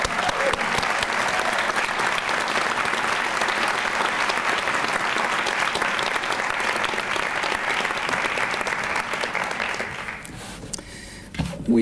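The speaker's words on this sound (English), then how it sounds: "let's give our award recipients one more round of applause collectively" Sustained, dense applause from an audience honoring faculty and staff award recipients at a Buffalo State recognition ceremony, loud and steady for about ten seconds before thinning out abruptly near the end.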